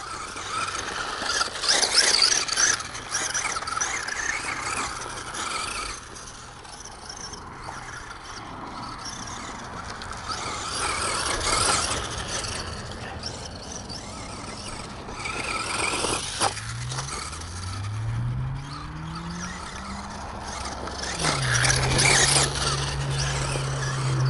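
A Traxxas Bandit XL5 RC car driving and braking outdoors, its electric motor whining up and down in repeated passes with tire squeals and skids, near and fairly loud throughout.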